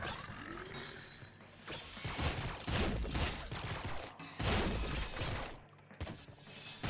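A bazooka firing in the roguelike shooter Nuclear Throne, dense bursts of game explosions and mechanical weapon noise layered continuously over busy background effects, loud and chaotic throughout.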